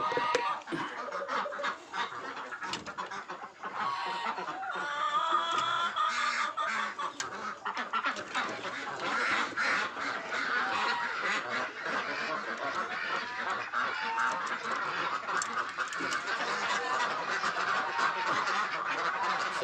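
A large flock of ducks at a duck farm quacks in a dense, continuous chorus during morning egg collection, loud and close throughout, with no clear talking.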